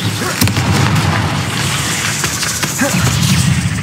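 Fiery blast spell from the Hogwarts Legacy video game, a loud booming burst with crackling fire and rumbling debris throughout, dense and close.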